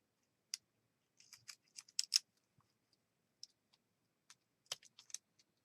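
Scissors snipping pink paper for journal pages, with sparse, quiet, crisp cuts coming in short irregular clusters at close range over near silence.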